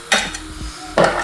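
Finely chopped onion tipped from a board into a bowl, giving a couple of short, close scrapes and light clinks with a quiet pause between them.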